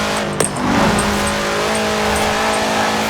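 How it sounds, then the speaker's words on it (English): A Volkswagen Type 2 van in Forza Horizon 4 holds a steady, loud engine drone with a rising whine, apparently engine-swapped, with one brief click near the start. "Why on earth does the engine sound like this?"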